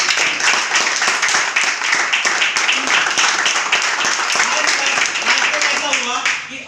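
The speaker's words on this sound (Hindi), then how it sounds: "तालियां बजा दे।" Dense applause from a large crowd at a business plan seminar fills the space, continuous and loud, with voices mixing in beneath the clapping.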